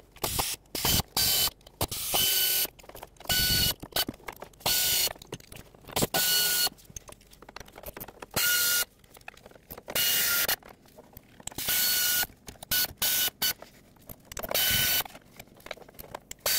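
Ratchet working 8mm valve cover bolts on a 1997-2003 Ford F-150 5.4L V8, heard as repeated bursts of quick clicking separated by short pauses, close and fairly loud throughout.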